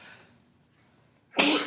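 A single sharp sneeze bursts out near the end, loud and close, after a faint indoor lull with soft breathing during a math lecture.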